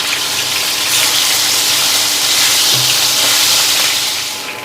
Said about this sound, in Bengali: এবার এই তেলের মধ্যেই আমি মাছের মাথাগুলোকে ভালো করে ভেজে নেব